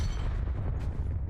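Frag grenade blast in Call of Duty Blackout, a short heavy booming rumble with deep low-end weight and a gritty tail, loud and close, lasting about a second with no voices.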